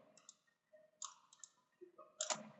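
Mouse clicks in CATIA design software, several sharp, close clicks scattered irregularly across a quiet background.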